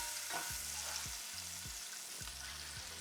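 Spinach fries in a pan with a continuous soft sizzle, broken by a few low repeated scraping or knocking sounds of stirring.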